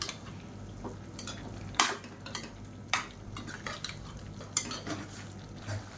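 A spoon stirring spiced chicken varuval in a pan, with soft scraping and a few sharper metallic clinks against the pan over a low background sizzle, fairly quiet and close.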